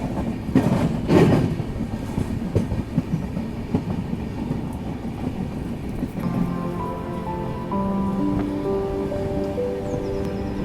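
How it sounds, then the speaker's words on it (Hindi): The Uttar Sampark Kranti passenger train runs on rails between Ramnagar in Jammu and Udhampur, making a steady loud rumble with rhythmic clickety-clack and some louder bursts early on, plus faint tonal squeals toward the end. "अभी हमारी ट्रेन रामनगर जम्मू से निकली है"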